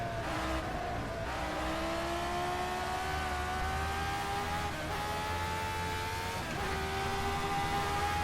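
A classic March Formula 1 car's engine screams around the track in rFactor 2, held at high revs with a steady rising pitch and brief dips at gear shifts, loud and close throughout.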